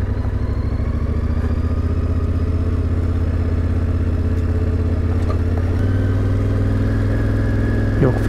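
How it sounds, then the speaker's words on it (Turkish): A motorbike engine runs steadily while riding along a narrow road through a national park with elephants, a loud continuous low drone with a slight shift in pitch near the end. "Motorun sesi çok fazla çıkıyor."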